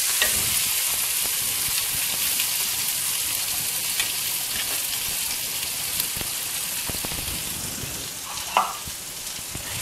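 Small onions frying in hot oil with dal and mustard seeds, a dense continuous crackling sizzle with scattered pops and one brief knock near the end, close and steady, no talk.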